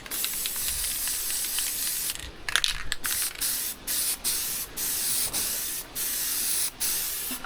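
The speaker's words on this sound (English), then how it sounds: "Figured 10 bucks worth of spray paint." A spray paint can hisses in a long continuous burst, then in a series of short even blasts separated by brief pauses, close and steady, while coating a steel mailbox framework.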